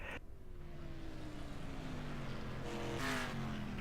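A race car engine in a race with a locked right front tire and bent driver's side tire pulls hard into second place, a sustained loud drone whose pitch slowly falls, with a brief rise near the end.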